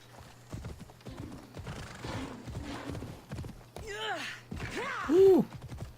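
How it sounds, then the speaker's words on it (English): Horse hooves clopping in the Assassin's Creed Odyssey video game, a rhythmic run of close, clear footfalls followed by a horse's whinny and snort near the end. "Horse."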